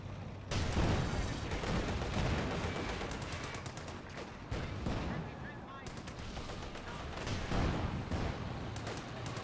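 Grenadier gunfire in Company of Heroes 2, dense bursts of rifle and machine-gun shots crackling in rapid volleys across the battlefield, loud and continuous with brief lulls.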